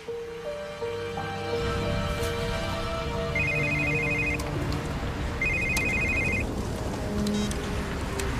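A landline telephone rings in repeated electronic bursts, steady and fairly clear, with faint background tones and no voices.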